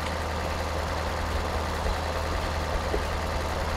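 Tractor engine labouring under load while dragging lowered plows in the farming game Farming Simulator 2013, a steady, loud low droning hum that holds constant throughout with no talk.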